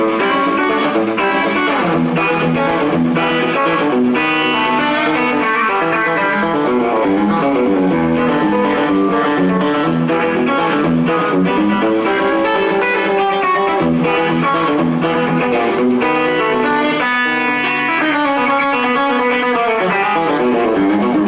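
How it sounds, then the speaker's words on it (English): Electric guitar played through a slap delay set in a reverb unit, fast country-style runs and bends ringing loud and continuous, each note trailed by a short quick echo, with no talking. "I have a slap delay in the first position of my reverb"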